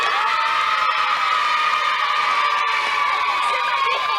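Excited young studio audience on a 1990 French TV children's show, a continuous loud wash of cheering, whoops and shrill shouting with some clapping mixed in.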